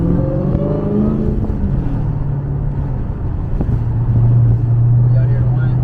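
A Dodge Hellcat's engine hums close and loud with a tonal supercharger-like whine that rises and shifts as it revs, under a steady road rumble.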